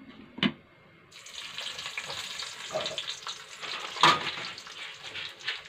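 Garlic sizzles in a little hot oil for a tadka tempering, a soft steady frying hiss with a few clinks and stirring scrapes, fairly close and moderately quiet.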